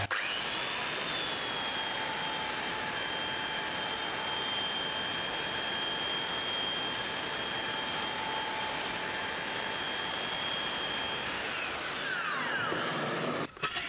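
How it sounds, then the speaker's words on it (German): A belt sander works small wooden boards clamped down, a loud steady whine and abrasive rasp running continuously for most of the clip before spinning down near the end. "Also auch sowas hier geht noch wirklich gut mit dem Bandschleifer, solange ihr es irgendwie spannen könnt."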